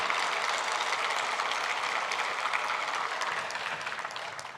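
Congregation clapping in a church service, a dense, steady wash of many hands that fades slightly toward the end, with no voices over it.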